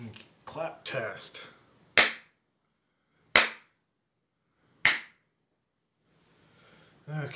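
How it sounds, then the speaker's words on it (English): Hand clap test for homemade acoustic panels, recorded on a cheap external mic: three sharp, isolated claps spaced about a second and a half apart with short, quickly damped decay, after a brief bit of talk. "Clap test."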